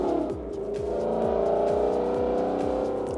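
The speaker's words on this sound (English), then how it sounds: "I'm actually driving a 2016 Mustang down the street." A 2016 Ford Mustang fitted with an Air Lift air suspension kit drives down a street, its engine a steady, fairly loud drone with a rough rhythmic low-end pulse and road noise, no voices.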